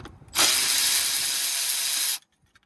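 A power tool undoes an air pipe fitting on a DX85 engine in one continuous, loud rattling burst of almost two seconds that starts and stops abruptly.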